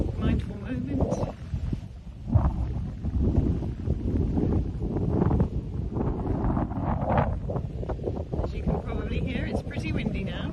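Strong wind buffeting the microphone at the Avebury stone circle, gusty low rumbling blasts rising and falling throughout, with faint rustling.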